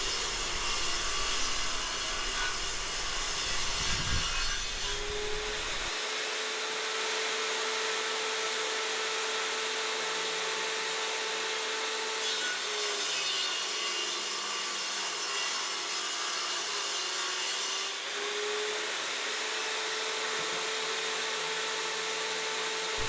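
A table saw runs with a steady whine while cutting a wood blank for an ES-335 style guitar build, the pitch dipping and recovering under load as the board passes through the blade.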